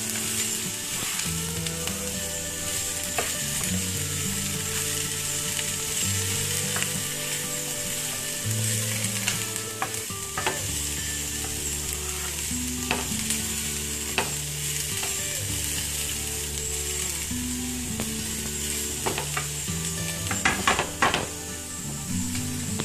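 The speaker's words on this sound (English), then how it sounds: "We're going to add the green peppers. And we're going to saute those with the onions for about a minute." Green peppers and onions sauté together in a pan with a steady, close sizzle, broken by occasional scrapes and clinks of stirring against the cookware; no voices.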